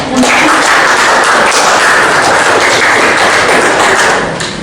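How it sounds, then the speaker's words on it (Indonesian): A classroom full of people clapping steadily and loudly for a few seconds after a group presentation, the applause fading slightly at the end. "kita beri tepuk tangan dulu"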